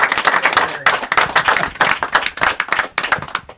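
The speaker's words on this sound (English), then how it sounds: "which deserves a round of applause, Capacity Crowd." A capacity crowd at a televised football show claps loudly in sustained, dense applause, with brief dips in the clapping.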